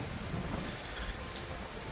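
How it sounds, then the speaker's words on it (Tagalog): Steady light rain hisses continuously at Twin Lakes, Tagaytay, a soft even wash of drops with a faint rumble underneath and no voices. "pero ngayon medyo ambon na lang siya"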